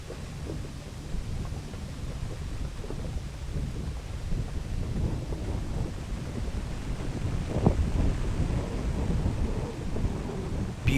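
Heavy rain and rolling thunder during a rainy camp in a Land Rover Defender in the Lake District, a steady loud wash of rain and wind with a deeper thunder rumble building and peaking near the end.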